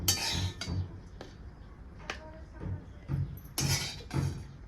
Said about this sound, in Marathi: तर ह्याला एका प्लेटमध्ये मी काढून घेते आता